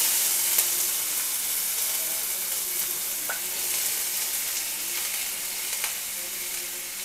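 Onions fry in a pan with a steady, gentle sizzle and hiss, broken by a few faint clicks of stirring, and there is no talk.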